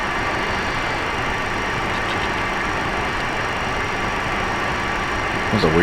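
Two MD-80 jet engines run steadily in a flight simulator cockpit, a loud continuous drone with a low rumble and broad hiss, unchanging throughout, with a brief thump near the end.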